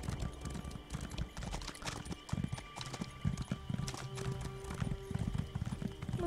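Rhythmic clip-clop of horse hooves trotting at a steady pace in Elder Scrolls Online, fairly close, with faint background sounds and no talking.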